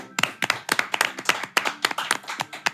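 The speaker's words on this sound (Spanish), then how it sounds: "aplauso para ellos." A studio audience claps for guests on a Spanish-language talk show, with sharp, close hand claps in an uneven rhythm, fairly loud and with no talk over them.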